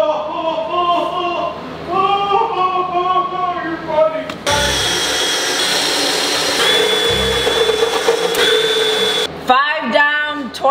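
A power drill whirs loudly in two long bursts, with people talking before and after the drilling.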